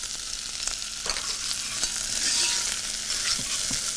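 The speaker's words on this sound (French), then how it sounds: "On va raidir les écrevisses dans l'huile d'olive." Crayfish sear in olive oil with butter and sliced shallots, a loud, dense sizzle running throughout with occasional light knocks of a utensil.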